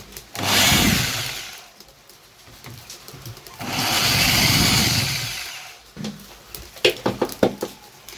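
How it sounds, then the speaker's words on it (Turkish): Screws are driven out of an old PVC door latch plate with a power tool, two sustained whirring bursts, followed by close clicks and knocks of handling parts. "Evet şimdi öncelikle eski dili söküyoruz"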